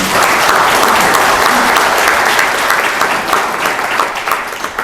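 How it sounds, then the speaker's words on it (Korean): A seated forum audience in a National Assembly members' office hall gives a dense, steady round of clapping that stays loud and close throughout before thinning slightly at the end. "박수 한번 주시겠습니다"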